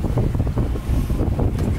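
Strong wind buffets the microphone aboard a sailboat motoring through a choppy fjord with the wind from astern, a steady low rumble and roar filling the whole clip with no voices.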